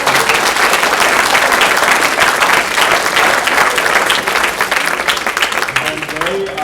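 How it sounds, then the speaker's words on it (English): A large audience at a speaker event applauds steadily and loudly, a dense wash of clapping that fades slightly near the end. "can we have everybody give a big round of applause to all of the speakers?"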